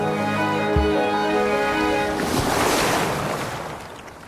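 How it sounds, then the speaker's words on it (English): A rushing ocean wave surges in and breaks on rocks with a broad washing roar after a tonal musical opening, loud and close, fading as the water recedes. "clinging tight against the turbulent waves"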